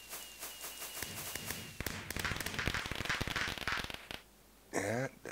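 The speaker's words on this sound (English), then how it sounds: "You basically would have a block below dispenser where the rocket shoots out" A firework rocket fired from a dispenser in Minecraft gives a crackling, popping burst of sparkle sounds after a few taps, followed by a short whooshing launch near the end, moderately loud with no talking.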